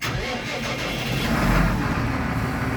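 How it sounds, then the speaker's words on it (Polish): Massey Ferguson tractor fitted with a Quicke Q6 front loader starting up, a steady mid-pitched engine rumble that builds slightly and holds near the microphone, with no talking. "Wsiadamy do auta i odpalamy."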